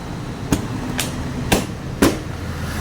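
Seat compartment of a Honda Click motorcycle being pushed shut: four sharp knocking thumps about half a second apart, close and moderately loud, over a low steady background hum.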